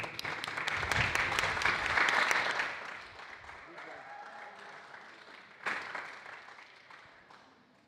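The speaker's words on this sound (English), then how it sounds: "a round of applause please for Alina" Crowd applause swells loudly at a sim racing podium ceremony, then thins into scattered clapping and fades, with a brief burst of cheering near the end.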